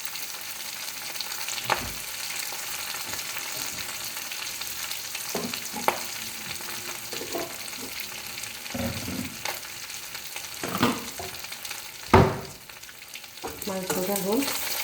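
Fried fish in hot oil for a green banana curry, a continuous close sizzle and bubbling crackle with occasional clinks and scrapes as the pieces are lifted out.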